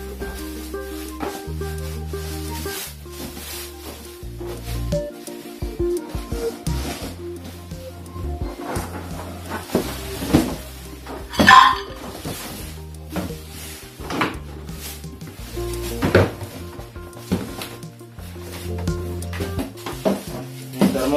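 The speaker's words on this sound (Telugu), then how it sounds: "ఇప్పుడు నేను ఓవెన్ ని ఓపెన్ చేస్తాను" A MarQ Solo 20L microwave oven is unpacked from its thermocol packing, with scattered knocks, scrapes, rustles and one sharp click of handling at close range, and occasional talk in between.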